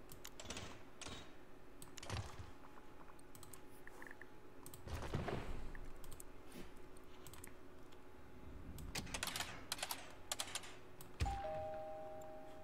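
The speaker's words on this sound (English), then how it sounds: "if you can hear my keyboard and my mouse clicking, sorry about that" Computer keyboard typing and loud mouse clicks during a SimCity game session, quiet close-up bursts of key taps and clicks in irregular clusters with pauses, alone without speech.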